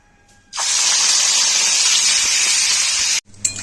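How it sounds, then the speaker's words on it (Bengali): Prawns rubbed with salt and turmeric hit a hot wok and erupt into a loud, steady hiss of sizzling oil that holds for nearly three seconds before cutting off abruptly. "আমি চিংড়ি মাছগুলোতে ভেজে নেব।"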